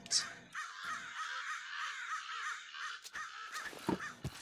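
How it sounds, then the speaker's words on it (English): Loud, close crow-like caws from birds in modded Minecraft (Mo'RAM modpack): a harsh, repeated cawing call that rings out steadily and dominates the scene, with a few sharper bird squawks near the end. "Honestly, those bird noises are so loud."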